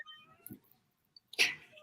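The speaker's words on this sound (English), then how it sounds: "I don't know whose cat that is." A cat gives a short, close meow-like cry near the end, after a faint earlier chirp and a quiet pause.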